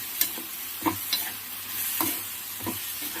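Ivy gourd curry with softened tomatoes is stirred in a pan over a medium flame, a few distinct scraping knocks of the spoon over a low, close sizzle, with no speech.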